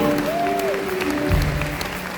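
Congregation applauding together in a church service, steady clapping that sits under a background musical tone, ending with a low thump.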